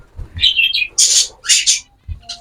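Pet birds kept in a home aviary chirp and tweet in a few short, bright bursts, close and fairly loud, with brief pauses and low thumps between calls.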